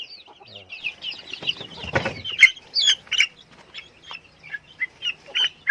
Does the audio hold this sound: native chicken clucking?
yes